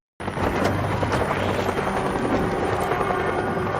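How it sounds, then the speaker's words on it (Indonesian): A helicopter in a monster and zombie film scene roars as a loud, steady broadband rotor and engine wash, holding nearly constant for a few seconds with no voices. "tiba-tiba muncul helikopter"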